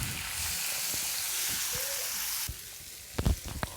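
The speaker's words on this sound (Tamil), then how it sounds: "கொஞ்சம் மிளகு, கொஞ்சம் ஜீரகம், கொஞ்சம் கடலைப்பருப்பு இதெல்லாம் போட்டு தாளிச்சிடலாம்" Pepper, cumin and chana dal temper in hot oil for a manathakkaali vathal kulambu, giving a dense, steady sizzle that drops off after a few seconds, followed by a few clattering taps of a spoon or pan.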